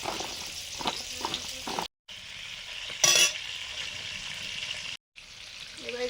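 Potatoes fry in a pan with a light, crackling sizzle, broken by stirring scrapes and a louder burst of spatter midway, with a couple of brief cuts to silence.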